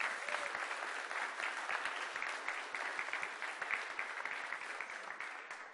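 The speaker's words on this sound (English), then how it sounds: "So give them a round of applause, please." Sustained audience applause at the ZBrush Summit, an even wash of many hands clapping at moderate distance, steady from start to finish.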